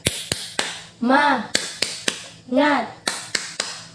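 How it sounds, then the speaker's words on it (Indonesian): A class of standing schoolchildren doing the rhythmic 'tepuk semangat' spirit clap: sharp, close, unison hand claps in a patterned beat, broken twice by a loud group chant shouted in between. "Kita tepuk semangat."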